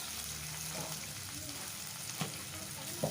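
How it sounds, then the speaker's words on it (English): One medium-sized onion, sliced, fries in hot oil with a quiet, steady sizzle, broken by a few faint clicks and scrapes of a utensil in the pan. "And now into this oil I finally sliced 1 medium-sized onion."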